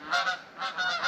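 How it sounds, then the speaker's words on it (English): Geese honk in a quick run of nasal calls, two short bursts with a brief pause between, fairly close and clear. "Oh, and the geese are arriving."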